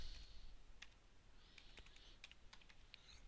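Computer keyboard typing close to the mic, quick clustered key taps in short bursts with brief pauses, quiet room, no talking.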